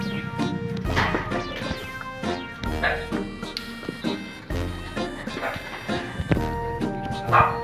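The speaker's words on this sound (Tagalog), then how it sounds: "At may aso." A dog barks repeatedly and loudly at close range, sharp yelping barks recurring throughout amid clattering knocks and background sounds.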